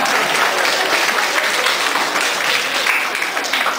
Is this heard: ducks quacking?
no